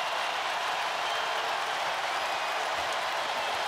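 Basketball arena crowd at a College of Charleston vs. North Carolina college game roaring in a steady, dense wash of cheering and applause that holds loud and unbroken throughout, with no clear voices standing out.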